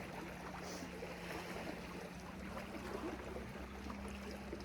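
Gentle lake waves lapping on Lake Winnipesaukee, New Hampshire, a steady soft wash of water with a faint low hum, quiet and continuous with no voices.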